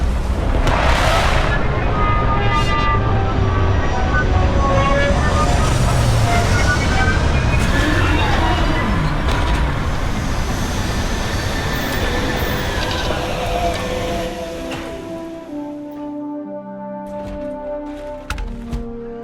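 A spaceship landing in Starfield roars with loud, rumbling thrust and booming engine noise, layered with rising and falling tonal hums and game music. Speech can be heard, and the roar fades near the end.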